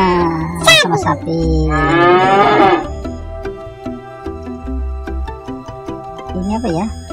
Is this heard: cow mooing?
yes